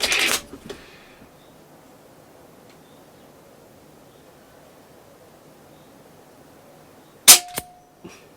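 A Snowpeak M60 .22 calibre air rifle fires a single sharp crack near the start, followed by a long quiet pause and then a couple of loud knocks and clatter near the end.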